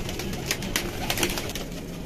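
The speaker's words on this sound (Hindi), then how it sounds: "बहुत बहुत एक्सपेंसिव रेट है इन कबूतरों का जो शबाज भाई ने आज बिल्कुल मुनासिब लगा दिया" Rampuri pigeons cooing close by amid flapping and shuffling noises, a steady murmur of birds with no talking.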